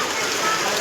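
Monsoon rain pours onto a rooftop terrace in a dense, steady hiss, close and loud, with faint voices of children in the background.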